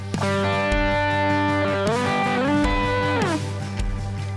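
Loud, sustained electric guitar notes and chords ring out with a reverb effect, bending and shifting pitch, the tails blooming and decaying smoothly over about four seconds.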